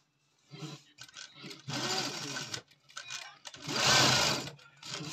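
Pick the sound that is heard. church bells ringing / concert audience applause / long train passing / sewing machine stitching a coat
sewing machine stitching a coat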